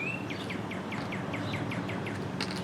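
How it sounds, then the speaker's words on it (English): A bird calls in a quick run of about a dozen sharp, descending chirps, each like a zapping laser-gun shot, fairly clear over a steady background hiss and ending with a brief burst. "That bird sounds like a laser gun."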